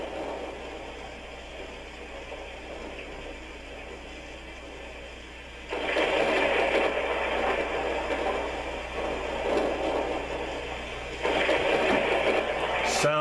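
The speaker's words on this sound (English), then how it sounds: "thunderstorm, my favorite." Thunderstorm setting on a Homedics Sound Spa Premier alarm clock radio: steady rain-like hiss with two louder rumbling surges of thunder partway through, continuous and close.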